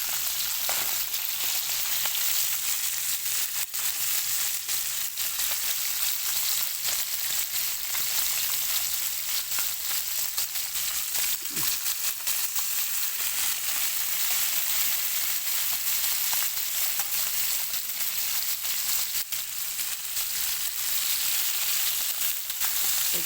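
Fish full of roe frying in hot oil, a constant loud sizzle and crackle that runs without a break, with no voices over it.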